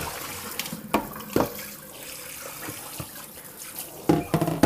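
Hot tap water runs steadily over a frozen phone, a continuous hiss of flowing, splashing water with a few sharper knocks and splashes as the frozen handset is handled under the stream.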